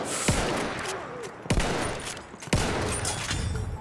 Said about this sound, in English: I love this gun though. It's, I think this is the Russian Marksman 1995, or the Russian 1995 Marksman